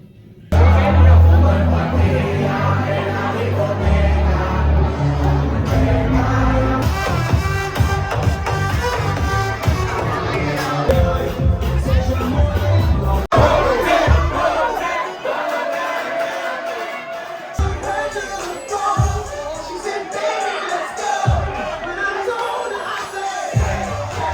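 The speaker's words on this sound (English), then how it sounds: "Surprisingly, a really lively crowd." Lively crowd in a cruise ship nightclub, loud babble and cheering mixed with pounding club music, voices shouting over the beat, with a quieter stretch midway before the noise builds again.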